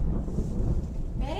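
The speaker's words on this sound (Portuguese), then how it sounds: "Barulho de chuva." Steady rain with a low rumble of thunder rolls on throughout, dense and even, with no talk.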